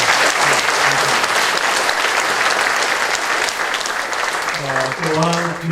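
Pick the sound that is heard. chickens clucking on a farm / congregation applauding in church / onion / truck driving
congregation applauding in church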